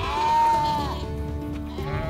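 A sheep being caught and held firmly for handling gives one clear, wavering bleat at moderate volume, followed by low shuffling and handling noise.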